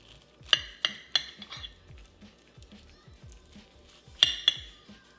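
A knife and fork work through crispy chicken confit on a plate, sharp metallic clinks against the dish at irregular intervals with soft crackling cuts between them, close by.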